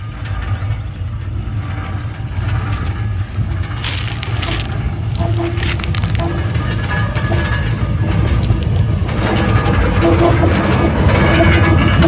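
A train rumbles past on newly laid track through hills with a heavy low roar and rattling, growing slightly louder toward the end; faint voices are barely present.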